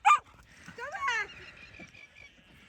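Sheepdogs bark sharply at sheep in a horse paddock: one loud yelp up close at the start, then a whining, yelping burst from the dogs, with scattered faint movement and distant bleats afterward.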